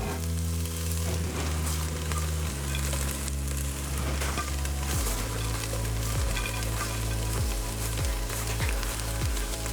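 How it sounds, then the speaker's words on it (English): Bacon sizzling and frying loudly as it goes back into a pot of moose chilli, a steady dense crackle with stirring scrapes throughout, no talking. "We'll add our bacon back into it"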